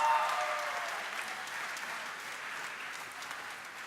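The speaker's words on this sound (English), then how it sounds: "Let's give them a big round of applause." Applause from an audience at a high school commencement, many hands clapping in a steady wash that starts strongest and eases slightly while continuing.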